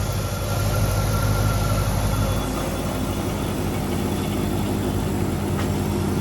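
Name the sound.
car engine idling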